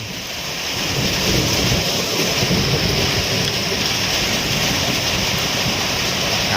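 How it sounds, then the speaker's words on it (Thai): Heavy rain from a summer storm pours down in a steady, loud roar, with gusting wind driving it hard throughout; no voices. "ลมลมนสาดฝนสาด ฝนสาดครับ ฝนสาดแรงมากนะครับ"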